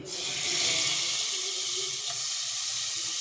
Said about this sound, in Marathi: पहिले मी एक कढई ठेवलेली आहे, त्यामध्ये मी बटर टाकते